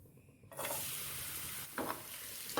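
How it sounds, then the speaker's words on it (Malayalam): Dates sautéing in ghee in a pan for a rava kanji recipe: a quiet lead-in, then a sudden bright sizzle that holds steady, with brief bursts of stirring scraping near the end. "നമുക്ക് 1 ടേബിൾ സ്പൂൺ ഈന്തപ്പഴവും കൂടി ഒന്ന് വഴറ്റിയെടുക്കാം."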